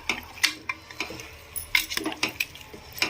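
Goat head curry with onion being stirred in a pot, a spoon clinking and scraping against the metal in short, irregular strokes, close and fairly loud, with no voices.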